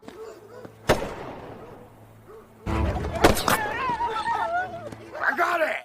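Two sharp, loud cracks like gunshots, one early and one a few seconds later, ringing out over low background noise and a voice.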